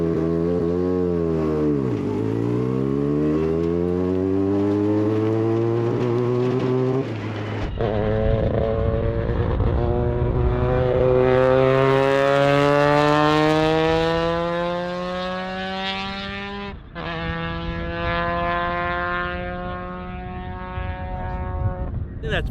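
A rotary-engined race car on a cooldown lap drones past, its loud buzzing engine note sweeping down and then up through a few gear changes. A voice talks over it.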